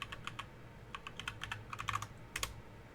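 Computer keyboard typing an admin password on a Linux machine, a quiet close run of separate key clicks with short pauses, a small cluster near the end, no talking.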